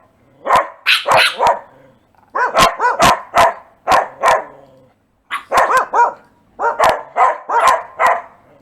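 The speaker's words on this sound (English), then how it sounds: "Where are these dogs coming from?" Several dogs bark loudly and close by in quick bursts of sharp barks and yips, with two short pauses between volleys.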